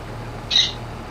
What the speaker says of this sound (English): See, his bird sounds work.